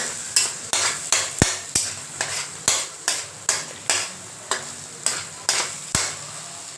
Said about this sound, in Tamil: முட்டை உதிரி உதிரியாக வர வரைக்கும் நம்ம கிளறிக்கலாம்